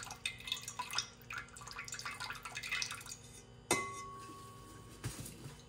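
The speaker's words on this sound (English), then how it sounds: "And what I'll do is add copper to this beaker that I'm pouring off the electrolyte into." Electrolyte solution from a silver refining cell being poured off into a beaker: a continuous trickling, splashing pour with faint glassy clinks, followed by a sharp glass knock and a softer clink, close and moderately quiet.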